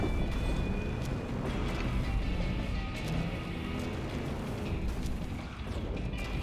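A volcano erupts in the video game Deliver At All Costs, a continuous loud, dense rumbling roar with crackling bursts throughout, steady and close with no talking.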